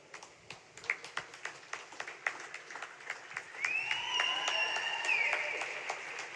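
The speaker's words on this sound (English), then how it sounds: "a lot of applause from the audience for that one" Audience applause at a high school diving meet after a forward one-and-a-half somersault pike: scattered distinct claps build into steady clapping, joined midway by a whistle-like tone.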